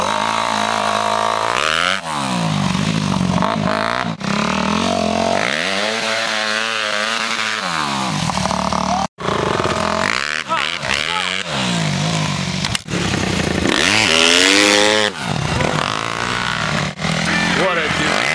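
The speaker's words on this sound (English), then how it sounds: "Look how he backs his fucking dirt bike up." A dirt bike engine revving hard at a lakeside campsite, rising and falling buzzing pitch sustained throughout while backing up, loud and close, with people talking over it.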